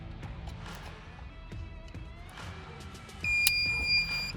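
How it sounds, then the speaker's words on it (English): Quiet rustling and handling noises, then a short series of high electronic beeps from a small remote starter module being installed in a 2011-2015 Kia Optima, near the end. "You're gonna hear some beeps."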